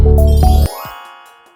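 A bright subscribe-bell notification effect rings loud and close: a rich layered chime for about half a second, then a clean ding that rings out and fades over the next second, with no talk.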